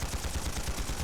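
Rapid automatic gunfire from Trails through Daybreak plays as a brief, dense burst of evenly spaced shots, fast and continuous throughout.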